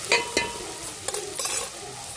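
Ginger-garlic paste frying in a pan on a home rooftop at night, soft sizzle with a few scraping stirs of a utensil against the pan, no talking.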